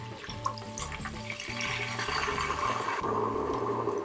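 Red wine poured into a hot Instant Pot over sautéed onions with sugar, thyme and bay leaf, setting off a loud continuous sizzle and bubbling hiss that swells after the first second and stays steady.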